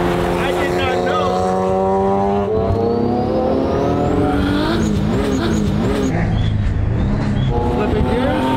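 A car engine revs loud and close, climbing in pitch, dropping briefly at a gear change, then pulling hard again, with wind and road roar throughout and excited voices over it.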